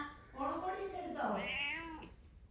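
A single drawn-out cat meow, close and fairly loud, rising and then falling in pitch over about two seconds.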